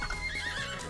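A horse in the Miitopia video game gives one short, loud, close whinny with a wavering pitch, alone and without talk.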